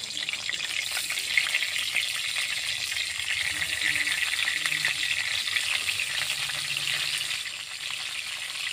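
Whole brinjals fry in a little hot oil in a kadai during village cooking, giving a loud, unbroken close-up sizzle with faint crackles throughout.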